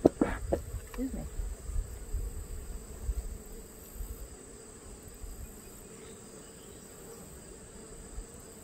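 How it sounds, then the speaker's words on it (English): Honey bees droning through a Langstroth hive inspection in August, with sumac smoke nearby; a steady, fairly faint buzz persists throughout, with a few louder bumps and handling knocks near the start. "I'm busy bees. Busy. Waiting for, or preparing for, winter."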